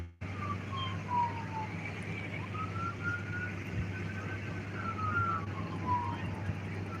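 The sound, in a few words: ambulance siren passing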